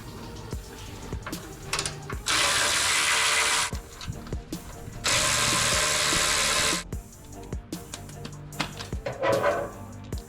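A hand ratchet works loose the bolts on the gas tank skid plate of a 2025 Toyota 4Runner, its clicking in two long loud bursts with shorter tool noises between, close and with no talk.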